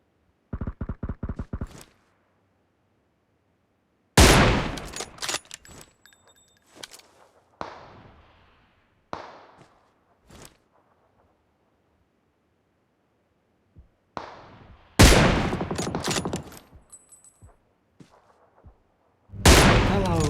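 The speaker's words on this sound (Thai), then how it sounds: "ให้เรายิงสนับสนุนเพื่อนจากด้านไกลได้เลยครับ" Gunfire from the mobile battle-royale game PUBG Mobile: loud bursts of rapid shots at the start, then several heavy volleys separated by quieter gaps, with sharp single reports near the end.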